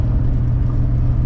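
A Nissan 300ZX 2+2 cruising in fifth gear, a steady low engine and road rumble heard from inside the cabin, constant and fairly loud with no change in pitch.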